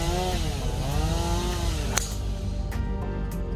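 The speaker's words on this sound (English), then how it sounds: "It was beautiful timing with the chainsaw. They're cleaning up trees behind me." A chainsaw cutting trees drones steadily in the background, its engine pitch rising and falling, with a few sharp knocks over the buzzing.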